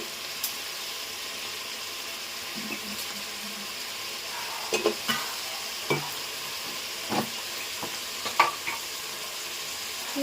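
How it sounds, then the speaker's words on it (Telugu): Masala with brinjal fries in mutton fat, a steady soft sizzle with scattered scrapes and clinks of a spoon stirring against the pan. "ఇవన్నీ బాగా కలిసిగా కలుపుకోవాలండి, బాగా వేపుకోవాలన్నమాట"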